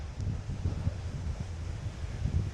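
Strong wind buffets a microphone outdoors near a water mill on Fuerteventura, a steady low rumbling roar with gusting surges throughout and no voices.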